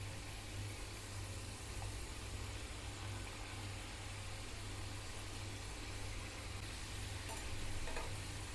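Salted shankarpali dough pieces dropped into hot oil, a faint continuous bubbling fry with a low steady hum beneath, heard alone without talk.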